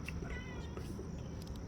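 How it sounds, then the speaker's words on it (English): A cat meows close by, a drawn-out wavering call followed by shorter fainter cries over a steady outdoor background hum. "You're telling the cat to shut up"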